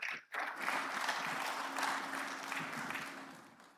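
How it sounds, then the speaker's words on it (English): Graduates and guests at a Lagos Business School Executive Programmes graduation break into applause after a brief pause, a thick, sustained clapping from a large crowd with a faint steady hum beneath it. "let's give a resounding applause for Professor Enase"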